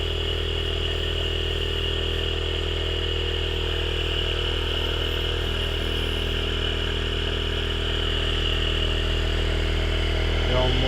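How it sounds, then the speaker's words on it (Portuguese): A small electric motor-generator runs continuously as part of a Stan Meyer cell setup, giving a steady loud whirring hum with faint clatter throughout. "Temos aqui o nosso motorzinho que está a trabalhar."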